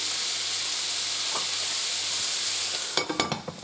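Steady sizzling of ingredients for bigos frying in a pan, a constant close hiss, broken near the end by several sharp clacks of stirring or scraping.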